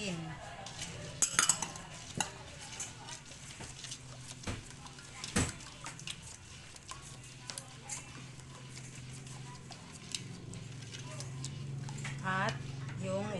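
Binangkal batter being mixed and dissolved in a bowl, with steady close scraping and light clinks of a utensil against the bowl, continuing under a woman's occasional speech.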